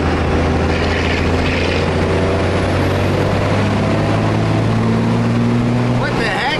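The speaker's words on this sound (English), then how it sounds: "we're gonna do a 5th gear pull and see how she does" A boosted car engine roars loudly and steadily through a 5th gear pull, a continuous high-load drone with rising intake and turbo whine close to the microphone.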